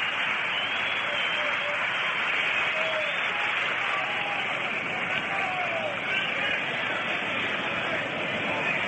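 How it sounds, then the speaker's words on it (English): Baseball stadium crowd at the 1959 World Series Game 1 between the Los Angeles Dodgers and Chicago White Sox applauds pitcher Early Wynn, a steady, dense wash of clapping and crowd noise lasting throughout at an even level, broadcast-quality and slightly distant. "Here comes Early Wynn, having a nice round of applause."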